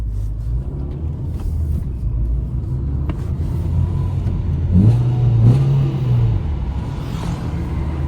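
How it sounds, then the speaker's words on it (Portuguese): A Ford Focus engine with a remap, still warming up, hums steadily, then revs up briefly with a rising whine before settling back, heard up close and loud without any voices. "acelerando gostoso, tá na fase de aquecimento ainda"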